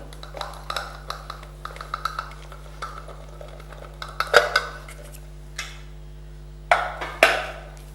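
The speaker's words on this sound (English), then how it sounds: "And with a wooden spoon, it's better. Just give it a mix, a quick mix" Muffin batter for chocolate chip muffins being mixed by hand with a wooden spoon in a bowl, heard as soft scraping and light intermittent knocks against the bowl, fairly close, with a low steady hum behind it.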